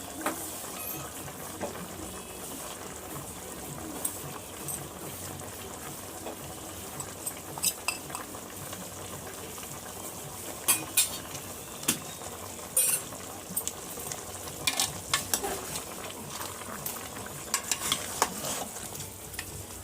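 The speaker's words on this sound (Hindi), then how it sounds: "अभी इसमें दही डाल दिया, इसको भूनेंगे थोड़ी देर और।" Chicken korma masala with yogurt fries in a pan under steady sizzling, while a utensil stirs and scrapes, with metallic clinks against the pan growing more frequent in the second half and no speech.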